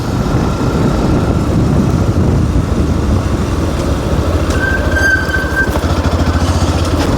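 Yamaha FZ V3 motorcycle engine hums steadily while riding on the road, a loud, close, continuous low drone with wind noise and a brief high squeal partway through, no talking.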